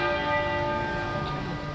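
Church bells toll at midday across the United Kingdom in solemn tribute to Queen Elizabeth, a steady, ringing bell tone that sustains and hums throughout, heard alone without voices.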